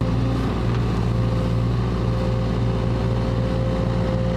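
An excavator engine runs in a steady, loud drone with a constant low hum and mechanical rattle, continuous throughout with no voices.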